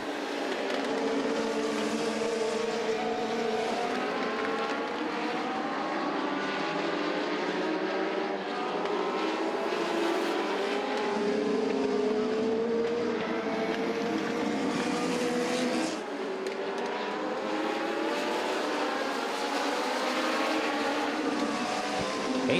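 Legends race cars race at Southside Speedway, a dense, continuous roar of several engines rising and falling as they circle the track, heard from a moderate distance without talking.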